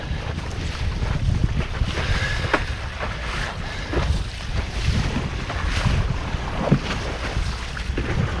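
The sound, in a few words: wind on open water from a boat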